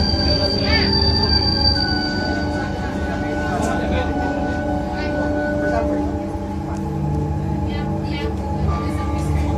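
Inside a moving LRT Sumatera Selatan light rail car in Palembang, a loud continuous rumble with high squealing wheel tones rising and fading, and faint voices in the carriage.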